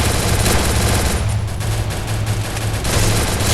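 Loud, dense automatic gunfire in the video game Free Fire, a continuous rattle of rapid shots with no break through the whole stretch.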